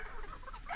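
A gamecock stag clucks in a short, faint burst close by at a farm where roosters are kept, with no voices over it.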